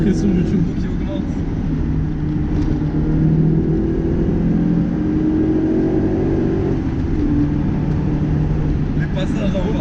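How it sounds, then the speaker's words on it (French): A Lancia Delta Integrale's turbocharged engine pulls hard under acceleration, a loud continuous drone from inside the car with rising tone and turbo whoosh, while a person talks over it. "La pression du turbo qui augmente."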